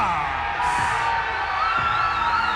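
Arena crowd cheering, whooping and yelling for fighter Brandon Casas at a Sparta combat sports event, loud and sustained with shouts rising above the roar.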